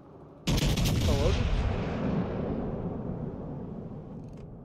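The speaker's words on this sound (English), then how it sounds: "that's the best salvo I'm gonna get today" Naval gun salvo from a warship in World of Warships Legends, a sudden loud booming blast that rolls into a long rumbling decay over several seconds, with faint game effects in the background.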